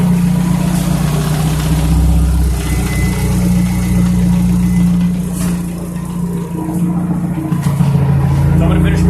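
An LS2-powered big-turbo TT idles with a steady, loud, deep rumble that holds throughout without any clear revving.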